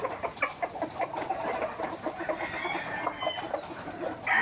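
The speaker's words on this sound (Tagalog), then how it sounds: "Mga manok pa pala rito." Chickens cluck busily in a rhythmic, steady stream with a rooster's crow rising near the end, the flock close by and fairly loud, no voices over it.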